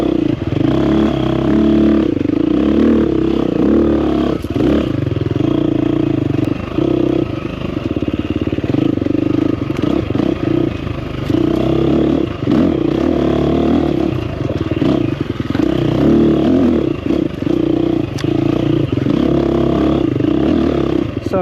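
A 2024 KTM 350XCF Factory Edition dirt bike being ridden on a flowy trail, its four-stroke engine droning steadily and loudly for the whole stretch, rising and falling with throttle, with clattering and scraping from the terrain and no talking.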